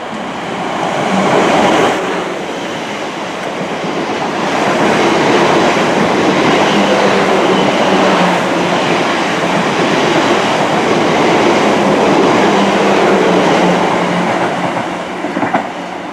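Train at Christchurch railway station on the South Western Main Line, a loud, sustained rumble of wheels and carriages with a broad roar that swells early and holds steady for the whole stretch, close by.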